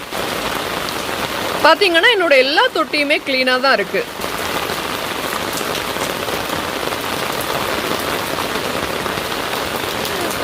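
Rain falls steadily and evenly throughout, pattering on surfaces outdoors among potted rose plants, while a voice speaks briefly over it near the start.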